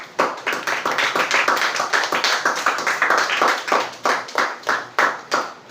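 A church congregation claps together in a steady, fast rhythm, loud and close, the hand claps continuing unbroken for several seconds without speech.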